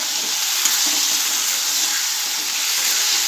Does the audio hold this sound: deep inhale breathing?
no